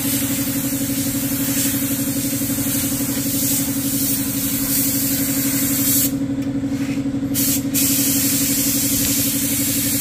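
A spray gun hisses steadily while applying body paint to a Toyota Vios, running over a constant droning engine-like hum, with short breaks in the spray near the end.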